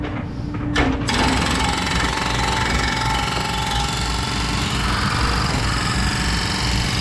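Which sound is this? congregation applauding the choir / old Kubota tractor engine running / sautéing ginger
old Kubota tractor engine running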